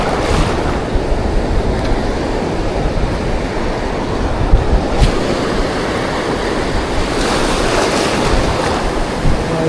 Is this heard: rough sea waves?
yes